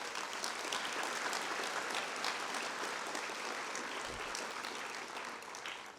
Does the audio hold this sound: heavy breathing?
no